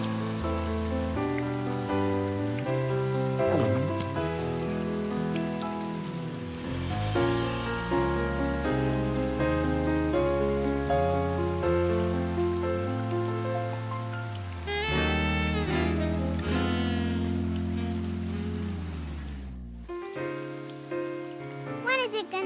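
Heavy rain falls steadily and continuously, mixed under prominent music that carries through nearly the whole stretch before a brief drop near the end.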